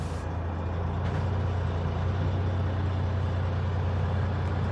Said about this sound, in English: I'm going to go ahead and fire up the truck so we can see its process.